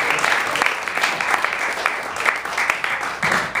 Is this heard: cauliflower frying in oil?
no